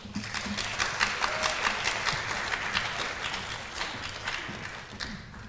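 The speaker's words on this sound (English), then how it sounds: "let's give the candidates a big round of applause" An audience at a 2015 mayoral forum at Northwest Vista College applauds the candidates, a steady, moderately loud wash of clapping that holds for several seconds before tapering slightly.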